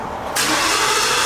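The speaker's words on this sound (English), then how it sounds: "let's cold start it and let you hear what it sounds like first" Cold start of a Ford Mustang: a quiet moment, then the engine abruptly catches and roars loud and close, settling into a steady, rough high idle.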